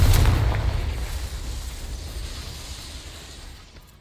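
A Confringo spell blast in a video game: one sharp, loud explosion at the start, followed by a deep rumbling tail that slowly fades over a few seconds, with no voices.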